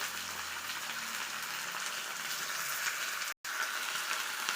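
Potatoes frying in hot oil give a dense, steady sizzle, loud and close, with one brief dropout near the end.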